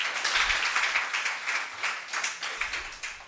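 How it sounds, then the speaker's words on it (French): An audience applauding a man named Diallo: steady, dense clapping from a crowd that continues throughout at moderate loudness, with a few low thumps underneath. "on acclame pour M. Diallo"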